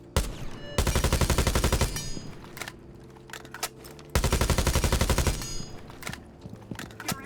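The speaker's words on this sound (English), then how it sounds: "So I shoot 20 bullets, don't get the kill, whatever, and then reload very quick" Automatic rifle fire in Rainbow Six Siege, two sustained rapid bursts of gunshots of about three seconds each, loud and close, separated by the clicks and clacks of a quick magazine reload.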